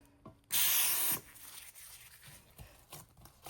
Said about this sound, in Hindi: ऑयल को हैंड्स पे स्प्रे कर लेंगे